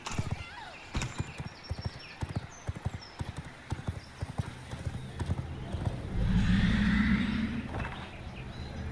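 A video game horse's hooves clip-clop steadily at an even trotting rhythm, followed by a loud horse whinny near the end.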